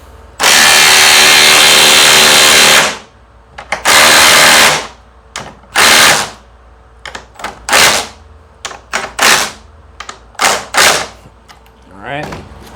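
A cordless DeWalt DCF860 or Milwaukee impact wrench drives a lag bolt down, opening with a long loud burst of hammering, then a string of short sharp bursts and stops, close up and otherwise alone.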